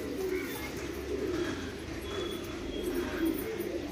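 Soft, low pigeon cooing murmurs steadily through the clip, a continuous throaty burble with no voices over it.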